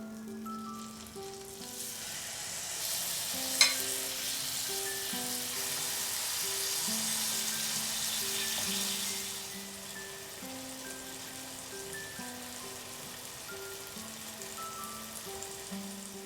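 Marinated fish sizzling in melted butter in a pan, a loud steady hiss that swells for several seconds then settles into a softer crackle, with a single sharp tick and faint background tones, no voices.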